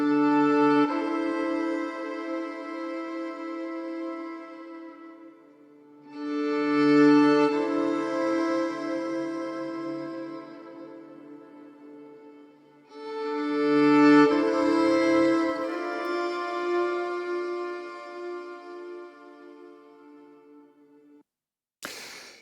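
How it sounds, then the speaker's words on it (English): A simple two-note theme for the Manor Lords score on a period violin, played as long bowed notes in slow phrases that swell and fade, close and clear, with pauses between and a faint knock at the end. "Dan and Vince playing around with our period violin."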